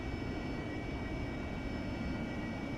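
An AV-8B Harrier jet engine at idle throttle in the DCS flight game, a steady, low, even whine and rumble with no change over a few seconds.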